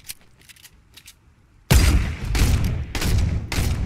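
A sniper rifle shot in the Fortnite video game cracks out loudly, followed by several further heavy blasts and booms over a couple of seconds after soft clicks and movement.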